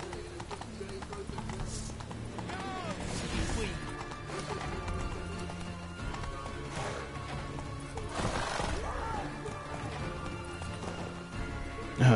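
Hooves of a galloping horse in The Witcher 3 on PS4 beat in rhythm against rain and clashing combat noises, with a voice speaking over the action.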